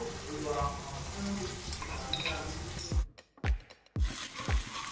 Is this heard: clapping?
no